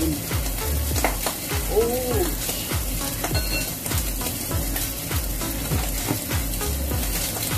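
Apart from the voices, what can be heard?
oil splattering while frying in a pan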